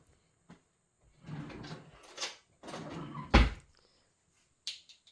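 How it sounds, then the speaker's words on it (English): A kitchen drawer is pulled open to fetch orange measuring spoons while making a no-bake peanut butter cup cheesecake: a few rattling, sliding clatters and a sharp clack, close by with no talking. "Need to get the orange ones out of the drawer."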